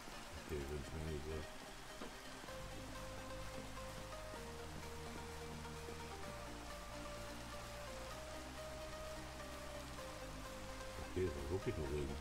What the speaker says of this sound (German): Wirklich nur Regen